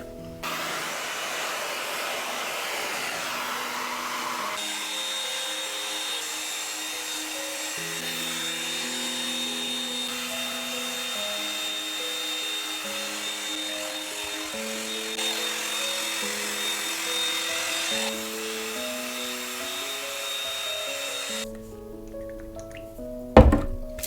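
A hair dryer blows steadily on freshly highlighted hair, a continuous airy rush running almost unbroken under louder background music before cutting off near the end.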